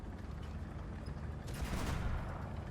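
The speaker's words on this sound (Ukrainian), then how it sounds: "А, це союзник ззаду пострілює." Tank gunfire from an allied tank behind the player in War Thunder, a sustained rumbling barrage of rapid shots with a louder burst midway, heard at a distance under game noise without talk.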